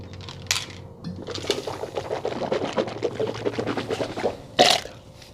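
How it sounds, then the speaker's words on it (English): Water is sipped and swallowed up close to cleanse the palate, with wet gulps and small liquid sounds over a few seconds and a sharper clink of a glass near the end. "let's cleanse the palate first, shall we? A little bit of water."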